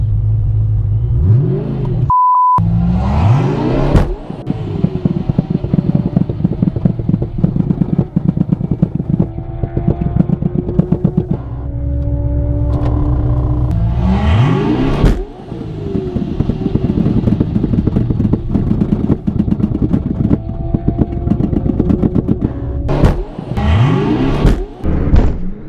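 A Chevrolet Camaro SS (6th generation) with a stock driveshaft revs hard in repeated loud bursts, the engine climbing and dropping several times over a rumbling idle, with a sharp clattering break midway through.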